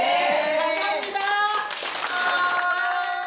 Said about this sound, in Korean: 오늘 여기에 오신 분들한테 박수 많이 쳐주세요